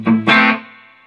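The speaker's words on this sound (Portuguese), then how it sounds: "Ele tem um reverb bem bacana" Washburn electric guitar played through a Meteoro Falcon 50G amplifier with its reverb on, two strummed chords ringing out loud and clean, the second one fading into a short reverb tail.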